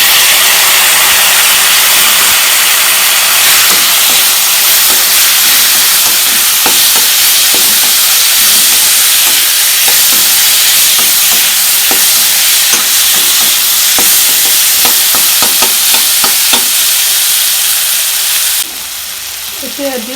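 Pineapple pieces for pickle, added with turmeric to a hot pan, sizzle loudly in a steady hiss with scattered clicks of stirring, running for about twenty seconds before the sound drops off near the end.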